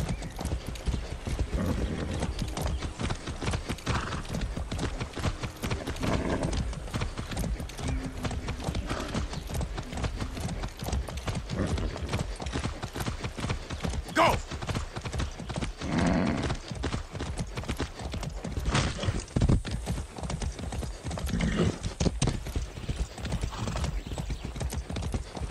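Horse hooves clip-clop steadily and close in the video game Far Cry 6, a continuous brisk gait running the whole stretch with an occasional faint whinny.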